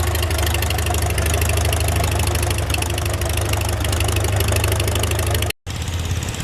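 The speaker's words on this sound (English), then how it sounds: "Take a look at that old tractor. It's a Farmall F20." An old Farmall F20 tractor idles at a steam show, its engine holding a loud, steady low chugging rumble that runs unbroken apart from one brief dropout near the end.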